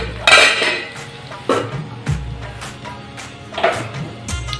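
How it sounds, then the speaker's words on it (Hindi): A metal lid set onto a pot of cooked vegetables in a home kitchen, with several close, loud clanks and rattles of pots and utensils spaced across the clip. "तो अब ढक देती हूँ मैं"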